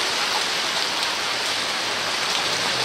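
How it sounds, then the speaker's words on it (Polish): Steady rain falls on leaves and surfaces under trees, a dense, even hiss of drops that continues without pause. "Nawet nie widać, jak pada."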